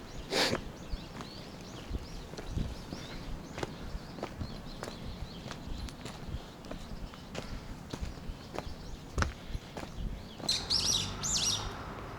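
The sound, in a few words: birds chirping in a Gwangju neighbourhood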